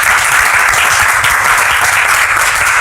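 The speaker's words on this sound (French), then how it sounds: "On peut déjà applaudir les deux interventions que nous avons eues." Close, loud audience applause at a French-language church gathering, dense, even clapping sustained throughout without a break.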